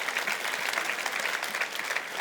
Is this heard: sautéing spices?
no